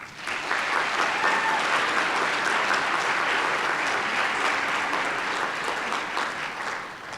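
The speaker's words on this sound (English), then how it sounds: "let's give them a round of applause" A large crowd at a community college commencement ceremony claps steadily and loudly for several seconds, a dense sustained wash of applause that tapers slightly at the end.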